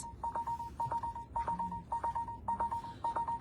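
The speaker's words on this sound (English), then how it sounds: "My phone's ringing" A phone rings with a quick, repeating electronic trill in short regular bursts, moderately quiet and heard alone with faint background noise.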